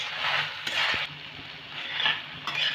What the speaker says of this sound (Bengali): দিয়ে আমি 20 থেকে 30 সেকেন্ডের মতো ভেজে নেব। হাই ফ্লেমে ভেজে নেব।